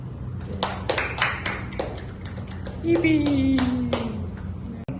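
A class of students claps in an English mock-teaching lesson, a scattered set of separate claps over low room noise, with a tonal beep sliding down partway through.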